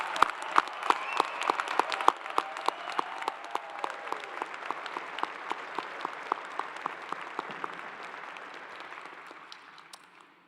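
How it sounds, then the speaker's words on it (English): Rousing applause for graduates at a Clemson University doctoral commencement, sustained crowd clapping with distinct sharp claps standing out, steady for most of its length before fading toward the end. "Would you all please join me in recognizing our graduates with a rousing round of applause."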